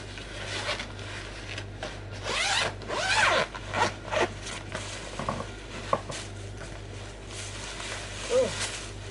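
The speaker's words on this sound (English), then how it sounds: "Oh, I can't find the zip." Zipper being pulled open on a Christmas tree storage bag, a series of close, rasping zips with rustling and handling noises, with some voice nearby.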